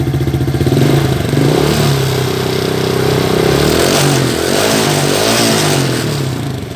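A Shineray XY 110 Wave motorcycle engine revs up steadily and loudly, its pitch rising and falling through several throttle blips while the bike sits running during a battery charging test, with no talk over the sound.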